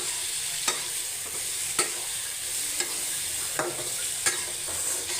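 An egg dish is stirred and sautéed in a pan: a constant close sizzle punctuated by about five sharp spatula scrapes at irregular intervals, with no one speaking.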